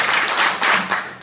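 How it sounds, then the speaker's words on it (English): Audience at an Irish music show at Enchanted Forest claps together in a steady rhythm, several broad, loud claps in sequence with no talk over them. "So, it's four claps."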